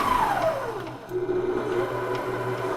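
A Litchi stand mixer on pulse setting gives a brief whirring burst whose pitch drops as the motor spins down, then settles into a steady low hum.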